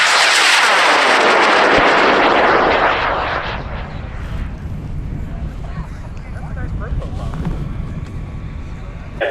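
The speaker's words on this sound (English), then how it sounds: "Preston, we're launching a rocket off of pad 53." A high power rocket on an L1090 motor launches from a pad at a Kansas rocketry event with a loud, roaring whoosh. The roar sweeps away over a few seconds into a distant rumble, and people talk underneath.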